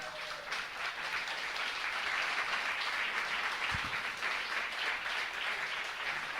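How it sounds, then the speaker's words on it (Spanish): Fairly faint, steady applause from a church congregation during a service, a continuous soft wash of many hands clapping heard from some distance, with a brief low thump midway. "Le damos un fuerte aplauso al Señor"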